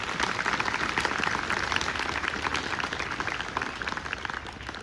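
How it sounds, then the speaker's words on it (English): Crowd at an outdoor Memorial Day ceremony gives a round of applause for event organizers and volunteers, a sustained even patter of many hands at moderate distance. "A round of applause for them as well"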